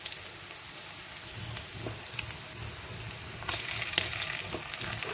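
Ginger-garlic paste fries in a pan of hot oil while a vegetarian meal maker (soya chunk) pickle is being cooked. A steady close sizzle and crackle runs throughout, with a brief louder burst of spattering partway through and no talking.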